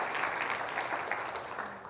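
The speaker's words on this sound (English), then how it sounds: "Give the Lord a hand clap." A church congregation applauds with dense, steady hand claps that fill the room and fade slightly toward the end.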